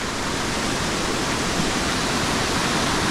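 A waterfall at Old Stone Fort State Park roars in a steady, loud broadband rush of falling water, close and continuous with no voices.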